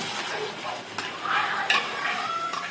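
Chili-powder masala for a halwa fish curry sautéing in a pan, a close sizzle with brisk stirring scrapes and light clinks of the spoon against the metal.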